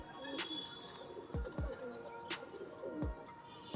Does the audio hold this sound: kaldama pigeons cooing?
yes